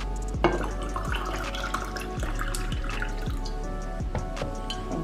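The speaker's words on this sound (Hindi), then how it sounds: "इसके अंदर हम डालेंगे पानी" Water poured into a jug holding orange and mint leaves, a steady splashing and trickling with drips, close and moderately loud, no talking.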